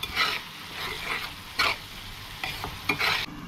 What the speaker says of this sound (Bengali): এখন মশলাগুলো কষিয়ে নিতে হবে